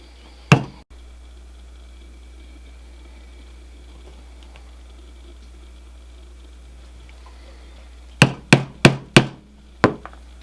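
Sharp hammer strikes ring out as a punch is driven through leather: one early blow, a long quiet pause, then a quick burst of four blows and a final strike.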